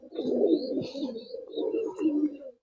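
A pair of Murshidabadi buk chhatiya pigeons coo close by in two soft, rolling phrases, with faint higher chirps above.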